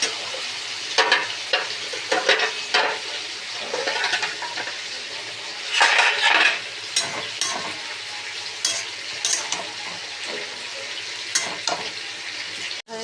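Ginger frying in a pan with tomato and green chilli paste, a close moderate sizzle broken by repeated scraping stirs and light utensil clinks.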